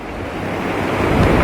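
Strong wind buffeting the microphone at an open spring snow goose hunting field, a loud continuous low roar that swells slightly toward the end, with no voices.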